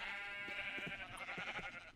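Sheep bleat in the Minecraft video game, with several short, wavering, nasal calls repeating close by over a steady backdrop of in-game sound.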